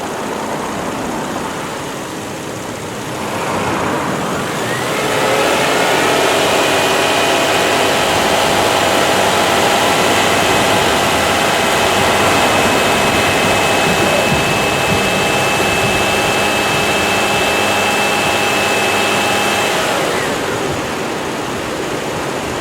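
A car engine revs up from idle to about 2,000 RPM and holds there. The loud, steady mechanical roar runs for roughly fifteen seconds and then drops back down, with no voices over it.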